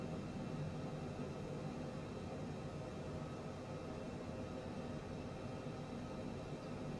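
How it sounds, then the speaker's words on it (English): Steady broadband jet engine hum from a private jet in Microsoft Flight Simulator 2020, a continuous even drone throughout with no talk over it. "But the sound of this jet could put you right to sleep."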